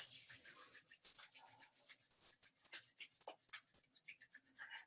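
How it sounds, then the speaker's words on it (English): Palms rub briskly together during a qigong practice session, giving a continuous rhythmic rasping swish that pulses with each stroke, soft and close. "Let's rub our hands together again."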